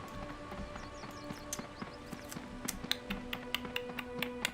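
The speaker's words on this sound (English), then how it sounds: "I like all the wild horses out here." Wild horses on the plains of the old-school MMO Dark Age of Camelot clop their hooves in quick, irregular taps. The taps sit over a steady sustained tonal drone, with no talking in the clip.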